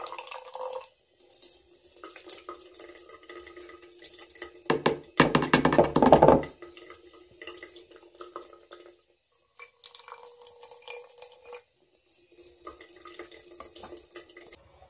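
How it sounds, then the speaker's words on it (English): Water is poured and sloshed into gold dredging concentrate, with intermittent drips and trickles and one louder splashing burst in the middle, close by with no talk. "add a little bit of water."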